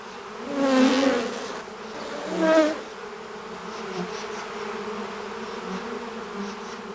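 Worker honeybees buzz loudly as they pass close by in two swells, then a softer, steady hum of insects continues in the background.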